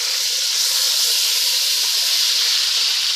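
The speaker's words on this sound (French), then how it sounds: "Je mets tout de suite un peu de beurre. Un peu de beurre Lily." Haitian Lily yellow butter sizzles steadily in a hot pan, a close, even hiss that holds at the same loudness throughout with no talking.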